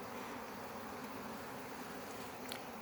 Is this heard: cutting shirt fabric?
no